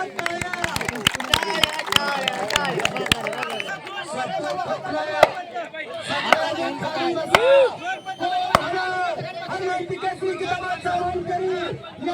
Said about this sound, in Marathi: सर्वांनी एकदा जोरदार टाळ्या.